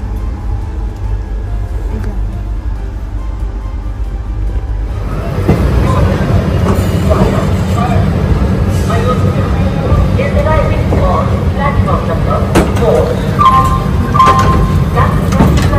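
A rumbling train pulls into Deen Dayal Upadhyaya (Mughalsarai) station, India, its low, steady roar swelling partway through, with clanks and scattered voices in the background.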